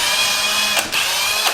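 A power drill bores into a raw hardwood window sill in an old house, giving a steady, loud, whining drone close by that dips briefly twice as the bit bites.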